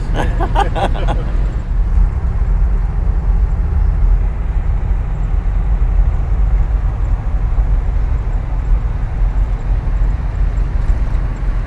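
Jeep Grand Wagoneer driving on the road, with a loud, steady low engine and road rumble that runs the whole way through. A brief knocking burst comes at the start.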